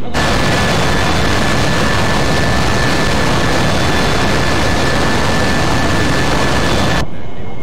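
Steady, loud roar of a jet engine held near 75 percent throttle in a flight simulator, cruising around 400 knots, a dense continuous rush with a faint high whine that cuts off abruptly near the end.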